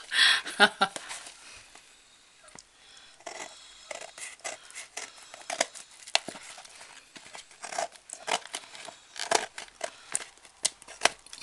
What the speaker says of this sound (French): je vais tout de suite couper le superflu, c'est-à-dire ce qui est en dehors de la boîte